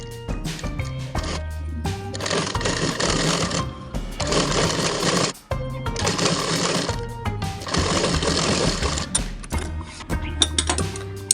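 A sewing machine stitches folded fabric in several loud mechanical bursts of rapid whirring and clatter, separated by brief pauses, with no talking.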